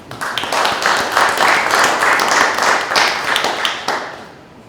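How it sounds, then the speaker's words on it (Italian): The audience at an Italian talk on energy and utility bills gives a round of applause, with dense, close hand claps rising quickly, holding for a few seconds and then tapering off. "Un applauso a tutti i presenti."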